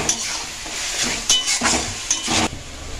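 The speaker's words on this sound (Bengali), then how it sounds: "আদা রসুনটা দিয়ে ভালোভাবে এটা তেলের মধ্যে নেড়ে যেতে হবে যতক্ষণ না কাঁচা গন্ধটা যাচ্ছে" Ginger and garlic stirred in hot oil in a pan, a steady sizzle broken by a few sharp scrapes and clinks of the spoon against the metal, close and fairly loud.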